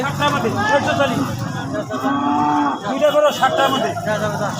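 Cattle moo loudly and repeatedly at a livestock market in North Bengal, with long drawn-out calls close by over a background of crowd noise.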